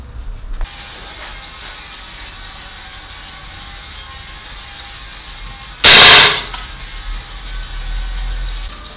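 An air rifle fires a 4.5mm explosive pellet at a target, giving one sharp, loud crack with a short burst of noise before the background hum returns. A fainter click comes earlier.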